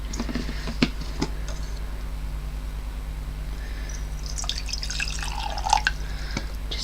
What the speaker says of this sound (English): I'm going to pour some of my water from my bottle of water into here.